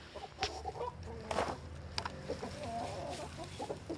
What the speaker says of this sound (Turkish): Ay horozumuz bu.